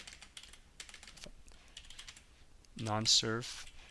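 Terminal command typed on a computer keyboard during a Parrot Security OS install in VMware: a steady run of light, quick key taps, followed by a louder burst of sound near the end.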